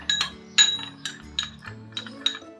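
A spoon clinks against a small glass bowl while mixing a homemade cough remedy, repeated light taps in an uneven rhythm, close and alone.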